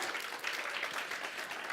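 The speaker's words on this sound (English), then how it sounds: "Give him a round of applause." An audience at a speakers' retreat session breaks into a steady round of applause, dense clapping filling the room evenly from start to finish without letting up.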